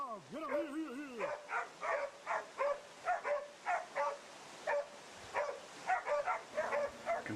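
Several hunting dogs bay in rapid, insistent barks around a huge wild boar, a steady run of close yaps and woofs with a person's voice breaking in at the start.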